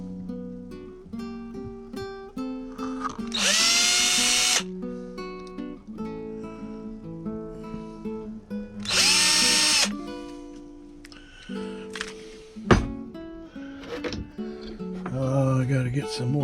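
Small power drill driving pins into a plank of a wooden HMS Bounty model ship, two short high-pitched whirring bursts up close, separated by a person talking and light clicks and handling noises.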